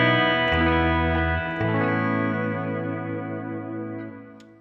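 Guitar chords played through a reverb effect with a long decay, each strum ringing out into a smooth, slowly fading wash of sustained tones with no voices.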